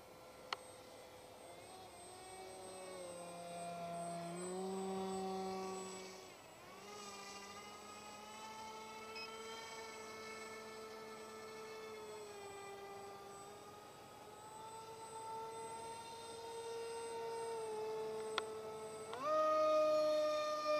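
An RCP F18 V3 RC jet plane with a Turnigy 2826/6 2200 Kv motor flying overhead, its electric motor giving a steady high whine that shifts in pitch as the throttle and distance change, loudest near five seconds and again at the end.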